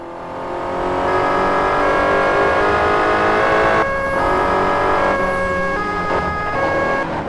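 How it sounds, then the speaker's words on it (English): A police car siren wails in the driving game Crash Time 5: Undercover, its tones sliding and switching, over an engine roar and steady road noise. "The first button press turns on the siren and the lights"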